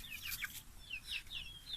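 Chickens cluck softly in a quick run of short calls, quiet and a little distant, inside a roosting shelter made from an old 200-litre drum, over a low background hum.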